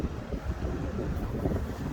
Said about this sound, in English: And as usual, it's windy.